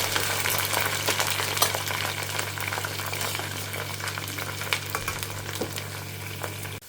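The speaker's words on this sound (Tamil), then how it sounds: "ஸோ இன்னும் இது பொரிஞ்சின்னு இருக்கு இல்லையா" Okra (ladies finger) frying in a pan of oil, a steady dense crackle and sizzle running throughout with scattered louder pops and a low constant hum beneath.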